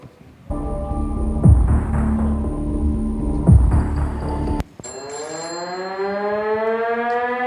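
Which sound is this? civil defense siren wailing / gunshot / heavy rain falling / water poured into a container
civil defense siren wailing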